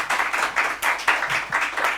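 Audience in a Ramzan school quiz competition clapping for a correct answer, a brief steady burst of applause from a small crowd.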